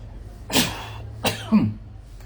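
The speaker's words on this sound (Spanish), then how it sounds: "voy a estornudar" Two short sharp bursts of a person sneezing, fairly faint and close, separated by a brief pause over a low background hum.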